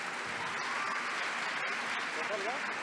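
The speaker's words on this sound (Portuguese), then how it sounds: "Palmas, por favor." An audience at the 2021 Bienal do Livro book fair applauds, a dense steady wash of clapping from many hands that holds evenly throughout.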